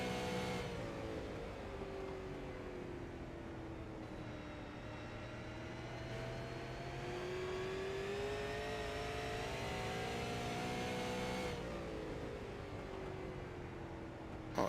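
A super late model dirt race car engine holds a steady, loud roar on throttle, its pitch rising and falling smoothly as the car runs, with a brief dip partway through before the drone resumes.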